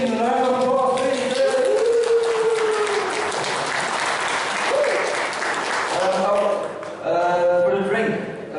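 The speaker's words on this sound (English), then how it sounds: "round of applause, please" Audience applause at a cocktail masterclass in a Belgian cocktail bar, a steady broadband clapping that fills the middle of the clip while voices talk over its start and end.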